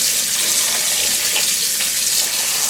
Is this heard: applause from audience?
no